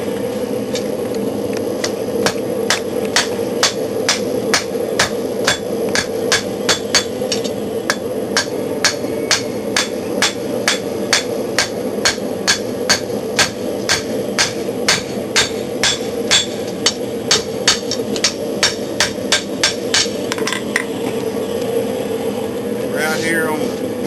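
A hammer strikes hot steel on the anvil while a knife blade is forged on a patio, the point being drawn out. The blows come in a steady rapid series of sharp close rings, with a constant background hum throughout.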